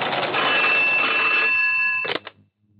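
A telephone rings loudly and continuously in a film scene, its steady electronic trill cutting off after about two seconds and followed by a couple of brief clicks.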